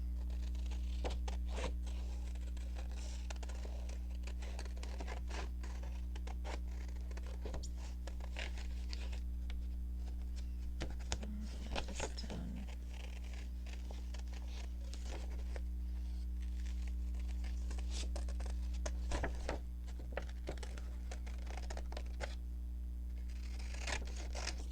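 Scissors fussy cutting around a stamped paper image, a series of quiet, irregular snips and paper rustles close by over a constant low electrical hum.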